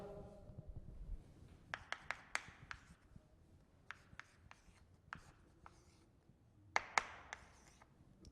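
Pen writing chemistry notes on a whiteboard or paper, a series of quiet, sharp taps and strokes in an irregular rhythm, close and faint, with no talk.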